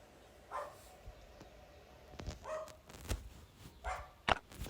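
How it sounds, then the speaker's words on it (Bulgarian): Several dogs bark outside, faint and distant, in scattered single barks and short yips spread over a few seconds against a quiet background hum, with a few sharper knocks mixed in. "Защото тези кучета ще ме изнерват и ще полудея."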